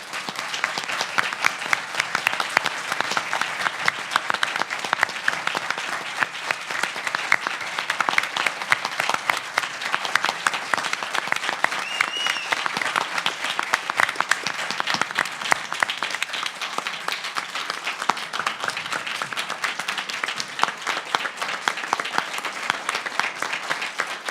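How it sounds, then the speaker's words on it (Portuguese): Sustained applause from a seminar audience for Doctor Giovanni at an international competition-defense seminar, a steady, dense wash of many hands clapping at even loudness throughout, with no voices on top. "peço uma salva de palmas ao doutor Giovanni"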